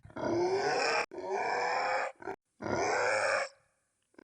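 A voice imitates a goblin's guttural grunting in three long, rough bursts, the last trailing off into breathy silence.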